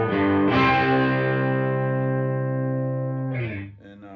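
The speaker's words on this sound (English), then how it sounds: "this is the dry tone of the amp, no effects" Electric guitar chord through an overdriven Plexi clone amp with no effects, a loud, gritty sustained strum ringing and slowly decaying, followed by a second strike that is quickly muted.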